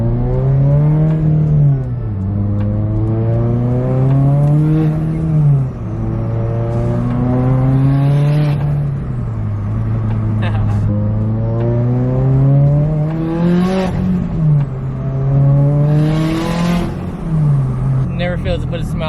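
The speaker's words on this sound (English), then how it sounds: "let's hear some turbo noises on the way." A turbocharged Subaru BRZ running on E85 drones from inside the moving car, its engine tone rising and falling repeatedly through the gears, loud and near.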